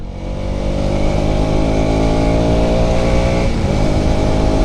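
A KTM Duke 200 motorcycle engine roars loud and close, holding a steady high-revving drone with dense harmonics and a small shift in pitch near the end, and no talking over it.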